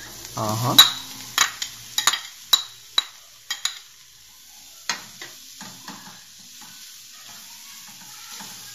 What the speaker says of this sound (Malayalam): 2 കപ്സ് വെജിറ്റബിൾസ് ഇടുക